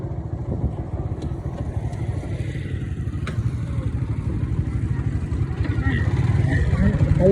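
A motorcycle engine rumbles steadily close by for several seconds, a low pulsing drone with faint voices in the background.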